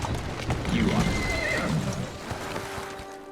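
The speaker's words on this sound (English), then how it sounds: "Who's a good horse? You are." A horse in Assassin's Creed Syndicate gives a loud, drawn-out whinny over clip-clopping hooves, with a voice speaking over the game sounds.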